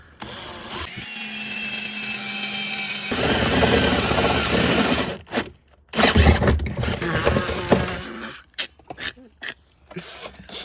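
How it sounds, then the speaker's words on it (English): A power drill bores a hole in a Mazda Miata's floor for a low-mounted seat, the steady whine running several seconds before stopping, then starting again in shorter bursts and stutters, close and loud. "That's how you drill a hole, people."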